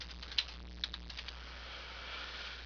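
Light keystrokes on a computer keyboard while entering a database command, a few sparse quiet taps, close and soft in a hushed room.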